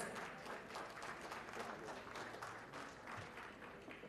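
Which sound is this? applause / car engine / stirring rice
applause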